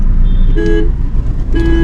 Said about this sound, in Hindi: अलग अलग स्टाइल के हॉर्न्स हैं।